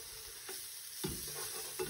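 A spoon stirring a yellow chicken curry with flour and curry powder in a hot pot, scraping in a few distinct strokes over a constant sizzle and frying hiss.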